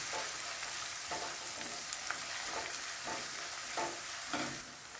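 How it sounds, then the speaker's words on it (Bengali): Ginger, garlic and onion frying over a high gas flame, a steady broadband sizzle with soft periodic stirring scrapes roughly every second, close and fairly quiet, no talking. "আদা, রসুন আর পেঁয়াজটা গ্যাসটাকে হাই ফ্লেমে রেখে 2 থেকে 3 মিনিট ভেজে নেব।"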